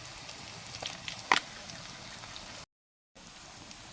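Local chicken biryani ingredients fry and brown in a pan with a steady, soft sizzle, broken by one sharp spatter near the start and a brief dropout of silence before the frying resumes.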